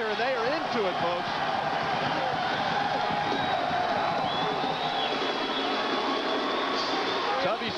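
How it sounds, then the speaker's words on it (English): A basketball crowd of SIU fans at a Missouri Valley Conference tournament game against Tulsa fills the arena with a steady, distant roar and murmur, under close commentary speech. "SIU basketball, you can hear the crowd."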